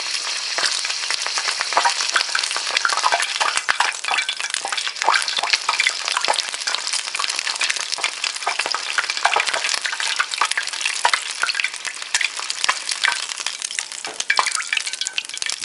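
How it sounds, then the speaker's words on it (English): Crab rangoon tips held with tongs in hot oil, frying with a dense, continuous crackling sizzle full of rapid pops, close and loud throughout with no talking. "I'm going to take a pair of tongs here, and I'm just going to hold them, the tips, in the oil to brown up and fry a little bit"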